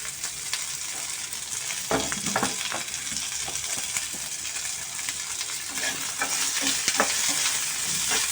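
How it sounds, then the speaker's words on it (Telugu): Green chilies, onions and curry leaves fry in a tempering for cucumber sambar, a steady close sizzle with scraping stirs and occasional sharp crackles. "ఇదిగోండి ఇక్కడ ఇది తాలింపు మొత్తం ఫ్రై అయిపోయింది. ఇందులో ఈ పచ్చిమిర్చి కూడా వేసేద్దాం."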